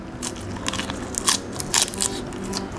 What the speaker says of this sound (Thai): ชอบเสียงมันอ่ะกรอบกรอบกรอบกรอบ